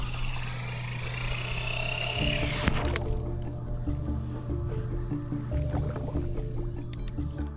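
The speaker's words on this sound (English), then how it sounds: "I spun up the motor and we were ready to go." A waterproof 3D-printed brushless motor spins underwater with a steady churning and bubbling hum. A loud splashy wash at the start cuts out abruptly, leaving a lower continuous whir with faint clicks.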